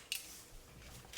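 Scissors snip through thin metal foil while trimming a corner on a 1/24 scale Airfix model, two quick, crisp cuts about a second apart, close and quiet with no talk.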